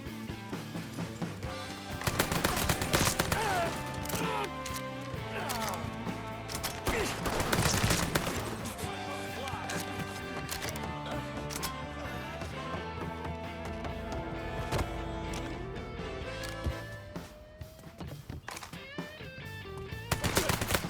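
Gunfire in the video game Mafia III: Definitive Edition on PS5: repeated bursts of rapid automatic shots and single cracks over a dense, steady game soundtrack for the whole stretch.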